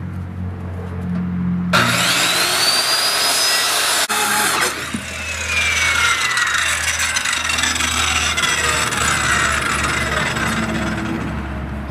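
A hand saw cuts through a wooden board clamped over a 1/2 inch OSB sheet, starting abruptly and then rasping loudly and continuously at close range through the rest of the stretch.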